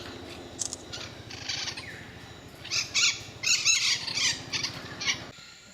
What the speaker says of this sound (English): the white-throated toucan with this green beak